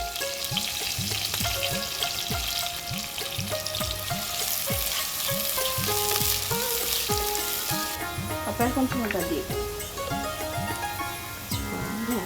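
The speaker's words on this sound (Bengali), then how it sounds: "ফোড়ন দেওয়ার জন্য গরম তেলে তেজপাতা আর পেঁয়াজ কুচি ভাজা হচ্ছে প্রথমে" Bay leaf and chopped onion fry in hot oil as a tempering for a fish and jackfruit-seed dal cooked in a traditional earthen kitchen, a dense steady sizzle with spatters and repeated rhythmic scraping strokes of stirring.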